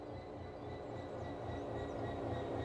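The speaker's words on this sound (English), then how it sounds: "Now couple the locomotive to the freight wagons." Locomotive coupling to freight wagons in Train Sim World on the East Coast Main Line, a low rumbling engine drone with rhythmic rolling thumps and a faint steady whine, quiet and continuous.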